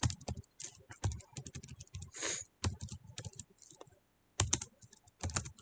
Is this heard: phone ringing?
no